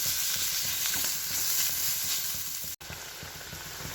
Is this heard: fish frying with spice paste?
yes